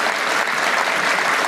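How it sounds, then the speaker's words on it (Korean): Audience applause, a dense and continuous wash of many hands clapping at steady loudness for the whole short stretch. "박수 쳐주려고 그러는 거예요?"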